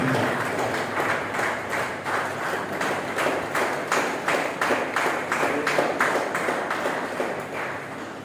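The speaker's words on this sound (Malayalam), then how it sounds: "അയാൾക്ക് ഇരിക്കേണ്ട ഒരു കയ്യടി" A seated audience at a local traders' association unit gathering claps together in a steady, rhythmic beat. The clapping stays fairly loud and even for several seconds.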